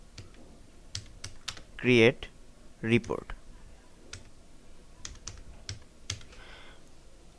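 Fingers tap a computer keyboard in scattered, crisp clicks, some in quick bursts and some isolated, while a person speaks over the typing.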